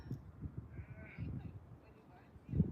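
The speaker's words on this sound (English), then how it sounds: "There's a goat in the background if you can hear it." A goat bleats faintly in the background in the Adelaide Hills, a few thin wavering cries under a person talking close to the microphone.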